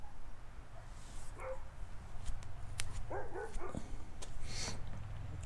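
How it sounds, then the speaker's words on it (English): Neighbourhood dogs bark outdoors at a distance, a few scattered yips and barks, moderately faint over background noise. "The neighbor dogs started barking at me."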